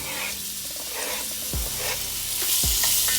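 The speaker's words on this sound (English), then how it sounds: "We're going in to get this bacon cooked." Chopped bacon strips sizzling and frying in a pan, making a loud, continuous crackling hiss with a couple of low knocks as the pieces are stirred.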